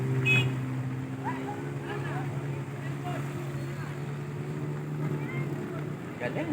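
A tricycle motorcycle engine drones steadily at a low pitch while splashing through floodwater, a continuous rumble with faint voices in the background.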